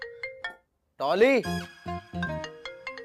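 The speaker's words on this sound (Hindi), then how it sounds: "क्या मुसीबत है, एक जैसी रिंगटोन है" Phone ringtone in a comedy drama, a short melodic electronic tune with bright repeated notes, loud and close, overlapping with a brief spoken word.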